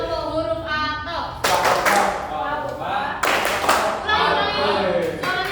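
Classroom clapping in several quick bursts of hand claps, each a short run of sharp claps separated by a teacher speaking and children chanting.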